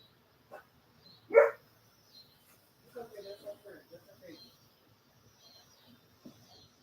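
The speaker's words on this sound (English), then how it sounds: "I heard my next door neighbor's dog like crying" A next door neighbor's dog whimpers and cries in short bursts, one sharper cry standing out before a run of softer, muffled whines, all faint and somewhat distant.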